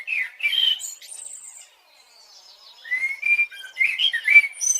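A cartoon character imitates a bird near a nest, voicing a string of bright chirps and whistled tweets in two bursts separated by a short quiet gap, fairly close and clear.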